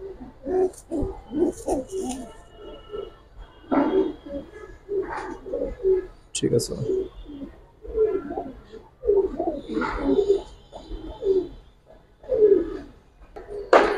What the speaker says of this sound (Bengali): দুইটা কবুতর, এই সিলভার লাইনের কবুতর।